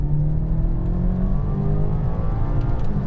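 A BMW M8 and an M5 accelerate hard side by side in a rolling race, giving a loud, steady engine roar from inside the car with a low droning rumble and rising pitch as they gain speed.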